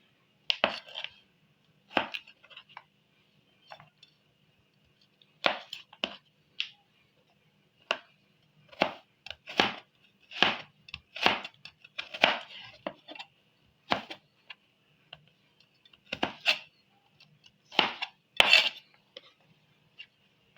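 A knife chops vegetables such as carrots finely lengthwise for an Italian salad, making sharp, crisp taps on a cutting board in irregular bursts and quick runs, close and clear with long quiet gaps between.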